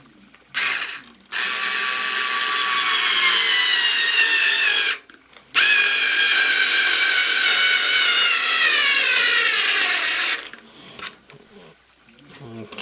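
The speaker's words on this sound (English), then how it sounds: "we'll see how many we can screw in before the unit runs out of charge" A Harbor Freight cordless screwdriver whirs loud and close as it drives 3/4 inch screws into wood, two long runs of several seconds each with a rising whine, separated by short pauses.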